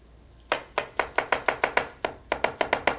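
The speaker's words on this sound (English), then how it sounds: "cutting a cross-like section on the bottom of the tomato" A knife scores a cross into the bottom of a tomato on a cutting board, a run of about fourteen crisp, evenly spaced taps, close and clear, with a short pause partway through.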